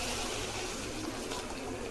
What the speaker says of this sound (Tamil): இப்போ வந்து கொஞ்சமாக தண்ணி போட்டுக்கலாம்.